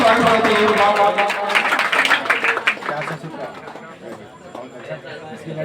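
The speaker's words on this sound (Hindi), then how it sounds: "एक बार जोरदार ताली से स्वागत होना चाहिए उनका" A village crowd in Madhubani, Bihar claps and chatters to welcome the second-ranked student of a coaching centre, loud at first, then fading into scattered claps and background murmur.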